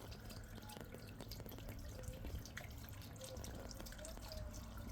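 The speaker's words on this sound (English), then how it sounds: "So that'll trickle into the pond as well" Water trickles steadily into a garden pond, a soft continuous splashing and dripping heard alone at low level with no voices.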